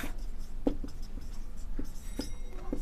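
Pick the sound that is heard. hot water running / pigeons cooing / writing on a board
writing on a board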